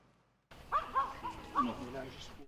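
A small dog barks and yips in a short burst of several sharp, close barks after a moment of near silence, with a voice heard around them.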